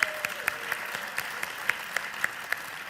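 An audience at a video game awards ceremony applauds in a steady wash of clapping, with sharper individual claps popping out at a regular pace and no talk over it.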